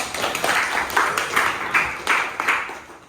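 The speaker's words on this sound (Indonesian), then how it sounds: "tepuk tangan Aisyah ya" Small classroom group clapping for a student in an Indonesian maths lesson, a modest, rhythmic patter of hands in roughly regular pulses at close range that tapers off.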